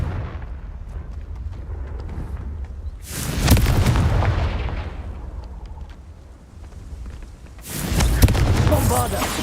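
Confringo fire-blast spell explosions in Hogwarts Legacy: two loud booming bursts, each rolling into a rumbling decay, separated by a quieter lull of game ambience.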